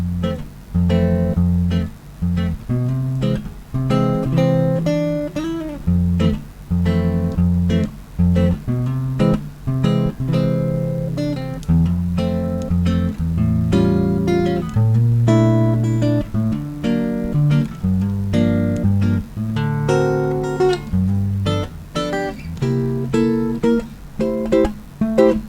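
Solo piano plays the B section of a song at a swing tempo, with rhythmic chords and a moving melody that continue steadily and up close for the whole passage, no voice.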